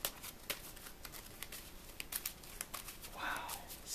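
Rapid, crisp clicking and riffling of playing cards being shuffled close by, a dense scatter of small taps with no talking.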